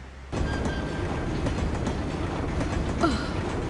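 Train rolling along rails in a Tobot animated cartoon, a steady loud rumble with faint clickety-clack and mechanical rattles, continuous and close, with a brief squeal near the end.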